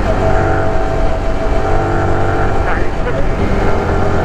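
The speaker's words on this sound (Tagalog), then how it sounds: "Sobrang traffic pa uwi." A constant loud engine and road drone fills the cabin of a car crawling through heavy homebound afternoon traffic toward a roundabout, with people talking inside over the steady rumble.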